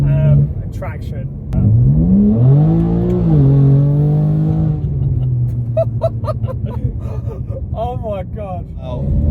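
A BMW M2 engine revs up and pulls away hard, its pitch climbing through the gears before fading, while voices exclaim nearby.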